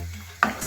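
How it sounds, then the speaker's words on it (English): Garlic curry gravy (poondu kara kozhambu) stirred in a pan after ten minutes of cooking: a soft low simmer, then a sudden louder scrape and sizzle burst as the spoon moves through the thickening gravy. "Stir it a little bit."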